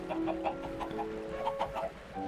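Chickens in a Minecraft egg farm clucking in short, quick bursts, faint and steady, with no talk over them.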